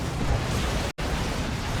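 Eldar Wraith Cannons firing in Dawn of War 2 multiplayer battle, a dense roaring blast with a brief silent gap in the middle, then continuing loud and sustained.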